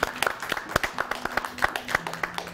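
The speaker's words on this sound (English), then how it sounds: "And everybody applaud him" A show audience applauds a guest, a few people clapping in a loose, fairly close rhythm for a couple of seconds with voices mixed in.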